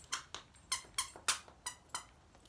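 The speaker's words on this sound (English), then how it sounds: "I should probably take away that squeaky toy" A rubber squeaky dog toy squeaks repeatedly in short sharp bursts, about eight squeaks in quick irregular succession, close and fairly loud with no talking.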